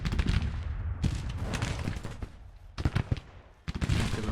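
Musket volleys from Civil War troops in the Grand Tactician strategy game, heard as bursts of overlapping crackling shots in several waves, loud and near with brief lulls between volleys, no talk.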